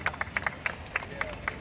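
Police officers clap in an uneven, moderately loud patter of single claps, welcoming lockdown violators in the street, with background murmur of people nearby.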